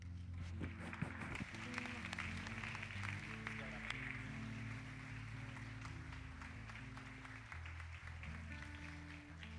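Church congregation applauding the Lord during a worship service, sustained dense clapping with organ or keyboard chords and cheering voices underneath, fairly distant and continuous.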